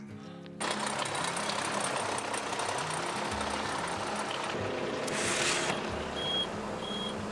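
A bus engine running steadily and warming up just after starting, a loud, continuous rough mechanical rattle and drone kicking in abruptly, with brief higher hiss and faint beeps over it.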